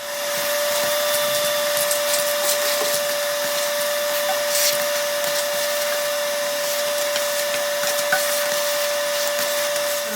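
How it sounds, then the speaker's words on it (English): A shop vac cleans out the inside of an Ariens Deluxe 30 snowblower, its loud, steady whine and rushing airflow holding unbroken and close for the whole stretch. "Time for the shop vac."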